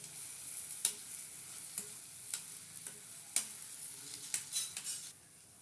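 A spoon stirs tomato and ginger-garlic paste in a hot pan, giving a steady soft sizzle broken by several sharp scraping clicks against the metal, with no talking.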